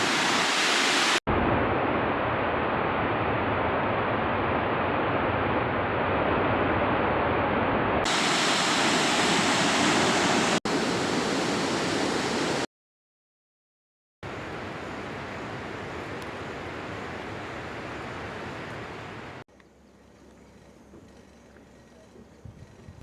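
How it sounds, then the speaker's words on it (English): The main falls of Victoria Falls on the Zambezi River, a loud continuous roar of falling water, broken by abrupt cuts and a brief silence, then fading to a quieter rush. "Main falls, Victoria Falls."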